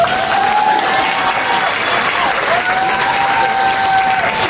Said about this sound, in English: Can you clap, or are you too tired?